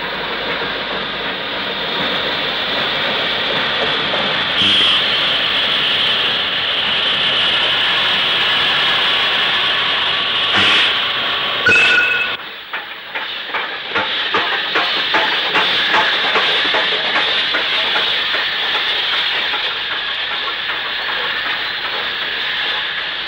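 Steam locomotive 35023 running light engine to shed at Weymouth, a steady loud hiss of steam with a sharp burst midway, then rapid rhythmic chuffing and clanking continuing to the end.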